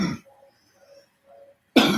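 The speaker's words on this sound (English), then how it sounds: "Damn this cough." A person coughs twice, close and fairly loud. The two harsh bursts are about a second and a half apart, with near silence and faint background sound between them.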